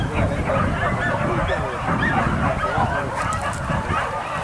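Several dogs bark and yelp during a wild boar hunt in West Sumatra, a dense continuous chorus of overlapping barks and yips mixed with people talking over a loud outdoor backdrop.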